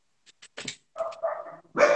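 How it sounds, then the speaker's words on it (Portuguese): A dog barks in a quick series of short, sharp yaps, fairly close, ending with a louder, longer bark. "Os cachorros tá latindo"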